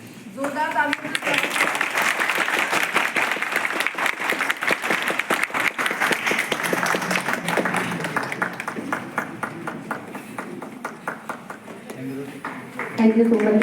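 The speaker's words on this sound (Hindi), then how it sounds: "जोरदार तालियों से" An audience at a university inauguration applauds strongly, a dense sustained clapping from many hands, with a voice speaking briefly at the start and end.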